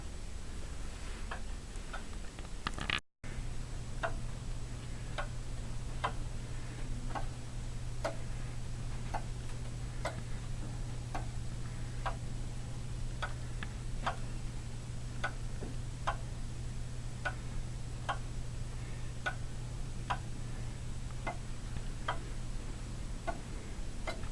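A 1929 Standard Electric Time Company 60-beat master clock ticking steadily once per second, crisp, evenly spaced clicks over a constant low hum, with one brief dropout near the start.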